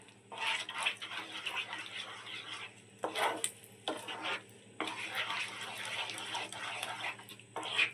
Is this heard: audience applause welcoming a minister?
no